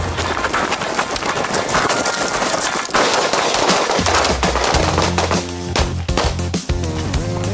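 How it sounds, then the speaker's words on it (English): Handgun shots fired during a combatives training drill, a dense, loud, continuous volley of overlapping pops and cracks from several shooters, with the rapid fire filling the whole stretch. "go ahead and get your shots off"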